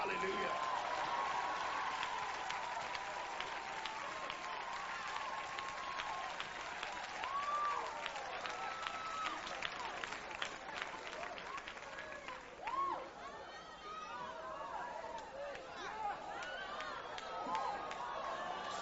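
A church congregation bursts into sustained applause mixed with cheering and shouting, a broad continuous wash of clapping and crowd noise that holds steady throughout with scattered voices rising above it.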